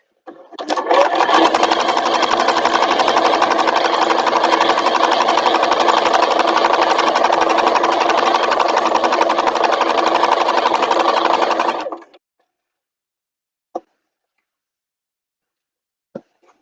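A sewing machine stitches a bag in one loud, continuous run of fast, even mechanical chatter lasting about eleven seconds, then stops dead, followed by two isolated soft clicks in the quiet.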